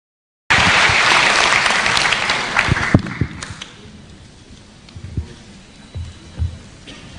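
Audience applause at a university campus event in Indonesia, a loud burst of clapping that begins abruptly, holds steady, then thins out into scattered claps and a few faint voices toward the end.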